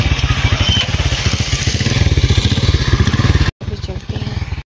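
A motorcycle engine chugs up close at night during a stop for fuel, its rapid, even pulse running steadily before cutting out briefly near the end and starting again.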